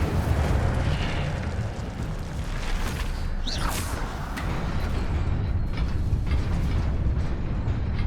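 Incendio fire spell cast in the video game Hogwarts Legacy: a loud, dense fiery whoosh and rumble over continuous game background noise, with a brief bright crackling burst in the middle.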